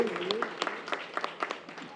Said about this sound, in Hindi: तो एक बार जोरदार तालियां इन सब के लिए।